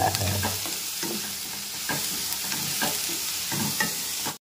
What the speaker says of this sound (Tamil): பெரிய வெங்காயமாக போட்டுக்கலாங்க.